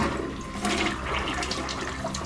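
A newly installed toilet in a Thailand bathroom flushes with a loud, close rush of churning water that stays steady throughout the short burst.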